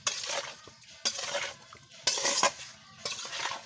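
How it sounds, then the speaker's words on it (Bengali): A spatula stirs spiced meat with oil over a clay stove, making soft scraping and shuffling strokes in about four distinct pulses at a moderate, quiet level. "এখন এটাকে সালের সাহায্যে একটু নাড়াচাড়া করে নেবো পুরো মশলাটা একসাথে মিক্সড করে নেবো"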